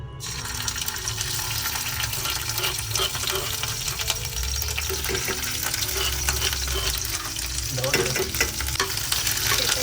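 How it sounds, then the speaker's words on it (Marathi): A crushed spice paste sizzles loudly in hot oil in a pan while being stirred, with a continuous close frying hiss, scraping and bubbling, and brief pops, for a prawn masala. "तर इकडे आपल्याला हा ठेचा केलेला आहे, तो आपण आतमध्ये टाकून घ्याव्या तेलामध्ये."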